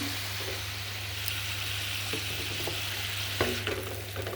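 A paste of ground mustard, poppy seed, cumin and dry chilli sautés in a pan, a soft steady sizzle with a few faint scrapes and taps of stirring, with no talk over it.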